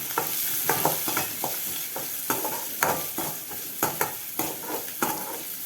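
Onion and dried chillies frying in a pan, with a steady close sizzle broken by regular scraping stirs of a spoon against the pan, alone without talk.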